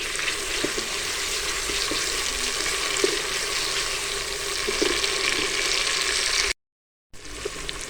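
Chopped tomatoes hiss and sizzle in hot oil while daal mash masala is frying, a dense, steady crackle with faint stirring clicks and a brief drop to silence near the end.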